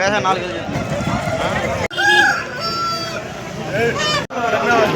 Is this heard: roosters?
yes